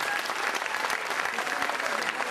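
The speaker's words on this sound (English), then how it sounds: "Give a big round of applause for all these people out here." An audience claps loudly at a school annual day function for the performers, a dense, sustained wash of applause heard close, with some voices mixed in.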